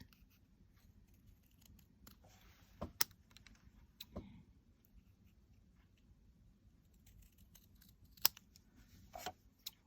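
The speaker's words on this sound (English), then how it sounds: "I'm just going to clean that up with a pair of scissors." Scissors snip washi tape at intervals, sharp crisp cuts scattered across a quiet background, with small rustling handling noises between them.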